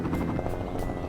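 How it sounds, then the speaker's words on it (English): Helicopter arriving in the Wolf video game, Timber Region: a brief, close, rhythmic rotor thumping, loud and steady, with no talking. "And here comes a helicopter."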